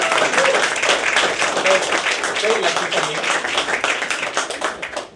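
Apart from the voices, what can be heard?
audience applause for the comedian's parents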